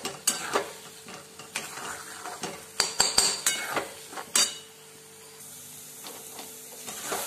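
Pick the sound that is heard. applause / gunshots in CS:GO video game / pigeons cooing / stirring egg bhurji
stirring egg bhurji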